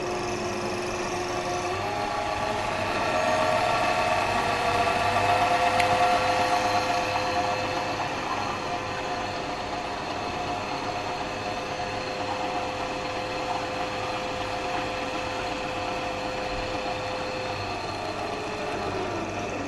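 AM120Z-H high-speed lab mixer motor running steadily, a continuous whirring hum that swells slightly in pitch and loudness partway through, then settles back to an even drone with no talking.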